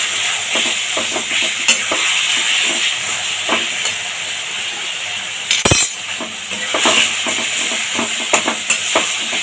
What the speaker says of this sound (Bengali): মশলাটা কষানো হয়ে গেছে, এবার এখানে কচুর শাকটা দিয়ে দেবো।